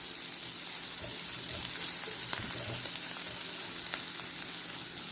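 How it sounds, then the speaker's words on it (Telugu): Onions fry in a pan with turmeric and salt, a soft, even sizzle running the whole time with a few light crackles and stirring clicks, fairly quiet and close, with no one talking. "ఉల్లిపాయలు వేగుతున్నాయి."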